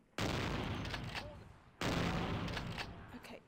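Two loud, close gunshots roughly 1.6 seconds apart, each with a sharp blast and a long decaying tail, fired at a police officer in Vampire: The Masquerade - Bloodlines.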